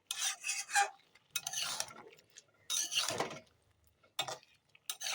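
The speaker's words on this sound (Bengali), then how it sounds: "কুমড়োটা দিয়ে ভালো করে নেড়ে দিই" A spoon stirring fried pumpkin into mixed vegetables in a pan, giving close scraping and clinking strokes in short, uneven bursts with quiet gaps between them.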